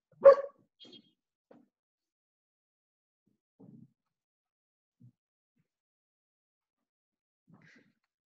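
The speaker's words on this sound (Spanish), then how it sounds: "nos ladran los perros" Dogs bark at a house during a home online class: one sharp bark up close, then scattered faint yips and woofs in the distance, separated by long stretches of near silence.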